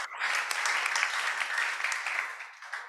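A church congregation applauds together during a service held at a narcotics prison in Cipinang, Jakarta, producing a steady, dense wash of clapping that holds for a few seconds and then begins to thin out.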